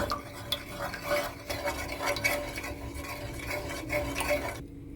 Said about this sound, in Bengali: এবার চামচের সাহায্যে খুব ভালো করে নেড়ে চেড়ে মিশিয়ে নেব